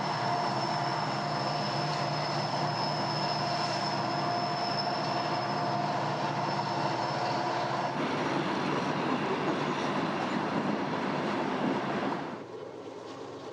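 A train rolls steadily along Colorado's Joint Line, former Santa Fe track, with loud continuous wheel rumble and a sustained tonal whine for about twelve seconds before the sound drops off abruptly near the end.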